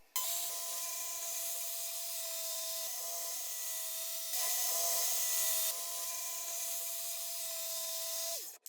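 A power saw cuts steadily through an OSB window seat, a continuous whining drone with a few brief dips and a louder stretch midway, close and alone, stopping sharply at the end.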